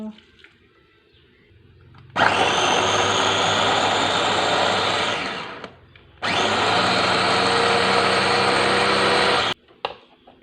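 A blender whirs loudly, pureeing Thai curry paste ingredients including dried chilies with a little added water, in two long sustained runs separated by a short pause, close and steady.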